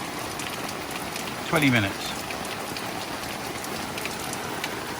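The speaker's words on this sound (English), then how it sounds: "She can't get out because it's raining too hard." Heavy rain falls in a steady, loud, continuous patter, with a short voice breaking in briefly over it.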